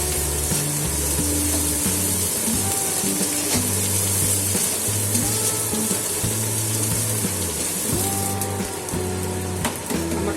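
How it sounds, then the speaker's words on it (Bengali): Prawns fry in a pan with a teaspoon of ginger-garlic paste, giving a moderate, continuous hiss and spitting sizzle with occasional light clinks from stirring, no one talking. "দিয়ে আমি চিংড়ি মাছগুলোকে একটু ভালো করে ভেজে নিতে হবে।"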